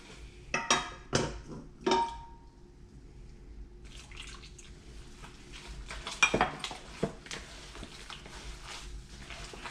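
Arepa dough being hand-mixed with hot water, cheese and butter, giving clattering bowl and utensil knocks in the first two seconds, then a steady soft squishing and scraping with a few sharper clinks.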